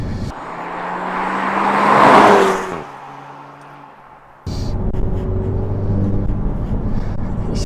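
A 2019 Renault Megane RS Trophy engine revs up and roars loudly, rising in pitch before easing off, then a steady engine drone resumes close by.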